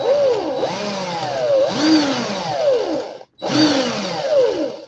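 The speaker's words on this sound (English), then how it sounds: "put my drill in the forward. I'm going to put it on slow even, and I just want to do a couple little twists" A small electric drill whirs at low speed, twisting coil wire, its pitch rising and falling as it spins, stopping briefly before starting again.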